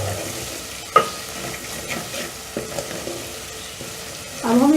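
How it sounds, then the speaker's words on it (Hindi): A spoon stirs potato peas curry in a pan, giving a soft sizzle with a few sharp scrapes and clinks against the metal and a louder scraping flourish at the end. "चम्मच साथ साथ हिलाते रहें।"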